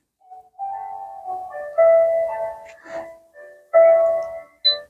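Electronic melody playing from the built-in speaker of a Bluetooth audio baby swing and bouncer, a simple chime-like tune of sustained and stepping tones in bursts, close and moderately loud, with no talking.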